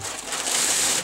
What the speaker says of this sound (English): So I'm going to cut pieces of this paper here, which they use as a drop cloth